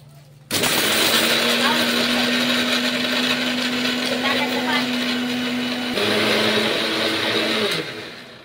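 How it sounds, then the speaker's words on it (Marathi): A mixer grinder grinding spice paste whirs loudly and steadily for several seconds, pausing briefly partway, then running again before stopping. "आता मसाला मिक्सर मधून छान असा बारीक करून लावते लगेच मिक्सर"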